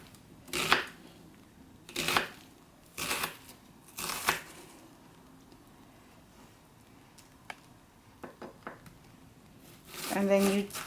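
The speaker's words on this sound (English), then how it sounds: "So you cut it like this, crosswise." A knife chops through a vegetable for a vegan fonio summer salad, four distinct cuts spaced about a second apart, then a quick cluster of lighter taps, with a voice briefly speaking at the end.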